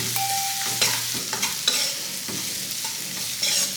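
Chicken being stirred with salt, turmeric and ginger-garlic paste in a hot pan for chicken corn manchurian: a continuous close sizzle broken by repeated scraping strokes of the spoon, with no talking.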